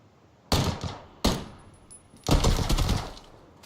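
Vector submachine gun fire in a battle royale video game match: three sharp bursts, two short rapid ones then a longer sustained volley, loud and close.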